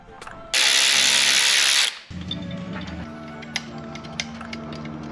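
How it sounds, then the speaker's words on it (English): Bolts being tightened on a billet motorcycle air cleaner on a 2022 Harley-Davidson Low Rider ST: a loud burst of power tool whirring for over a second, followed by a lower steady mechanical hum with scattered metallic clicks. "just doing the final tightening of the bolts"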